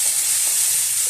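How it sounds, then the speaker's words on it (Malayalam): Mustard seeds and curry leaves sizzle and crackle in hot oil, a steady close hiss of frying that holds on its own throughout. "എണ്ണ ചൂടായി കടുക് ഇട്ട് കൊടുക്കാം. കറിവേപ്പില ഇട്ട് കൊടുക്കുന്നത്."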